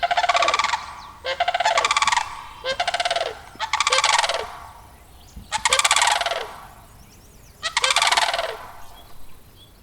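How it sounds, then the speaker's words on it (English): Sandhill cranes give loud rolling, rattling calls at Cherry River in damp grassland, about six bursts repeated in an irregular rhythm, strong and close with no talking. "you will likely hear the magical primeval calls of the sandhill crane"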